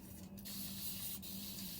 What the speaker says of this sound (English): and just give it a light spray